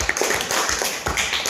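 Students in a classroom applaud a correct answer about square numbers. Steady, fairly loud clapping runs throughout with uneven rhythm and a few sharper taps.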